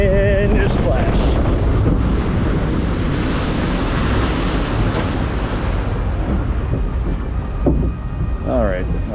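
The Expedition Zork log ride boat at Toverland in the Netherlands rushes through water with a steady roar of splashing and wind noise, recorded from on board, as a rider speaks briefly.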